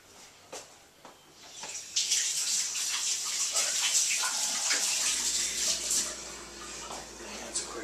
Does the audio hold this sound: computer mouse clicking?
no